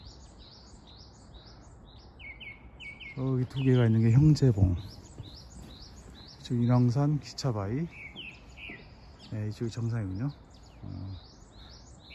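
Small birds chirp and sing almost continuously along a wooded mountain trail on Ansan in Seoul, with bright, repeated calls at close to middle distance. Someone talks over them in several stretches.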